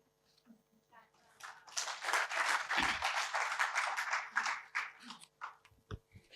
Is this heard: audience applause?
yes